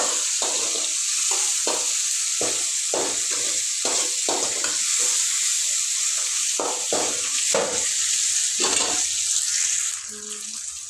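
Ginger garlic paste fries in a pan with a continuous hissing sizzle, broken by regular scraping strokes of stirring, close and loud throughout.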